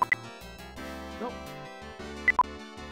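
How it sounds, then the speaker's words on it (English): Two short high bleeps sound from DOSBox as the mouse is released during a playthrough of the game Gadget: Invention, Travel & Adventure. The bleeps sit at the start and again near the end, over steady synthesized game music. "That sound is the sound of me releasing the mouse from DOSBox."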